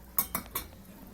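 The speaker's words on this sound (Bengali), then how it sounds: "এবার একটা থালা নিয়ে এটা একটু পাঁচ মিনিট ঢাকা দিয়ে রাখতে হবে" A plate is set over a cooking pot of vegetarian curry, giving three quick close metallic clinks in succession before the kitchen goes quiet.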